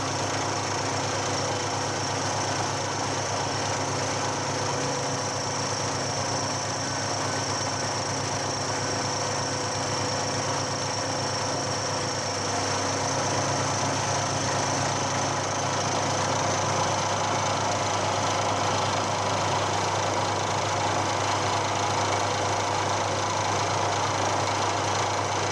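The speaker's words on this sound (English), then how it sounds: "we'll do another conventional milling pass, and that'll bring us over to within 1 millimeter of that line" A milling machine makes a conventional milling pass on a lathe tool-holder workpiece, a steady close, continuous mechanical hum and whir with a constant tone throughout and no talking.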